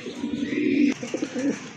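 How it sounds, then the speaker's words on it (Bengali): A big pair of Indian Bombay pigeons coo close by, with low throaty rolling calls in two bursts split by a brief click. "বিগ সাইজের এক জোড়া ইন্ডিয়ান বোম্বাই কবুতর"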